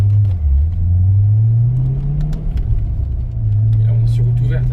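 A Chevrolet Corvette C5 V8 accelerates on an open road, its deep engine note rising and holding steady, loud and close throughout.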